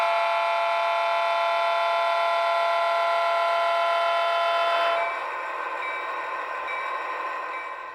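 A sound decoder in an Athearn Genesis GP38-2 model locomotive plays a steady Nathan P3 horn chord with an EMD prime mover underneath, the horn cutting off abruptly partway and leaving the engine rumble alone.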